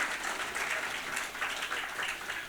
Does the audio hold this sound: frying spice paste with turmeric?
no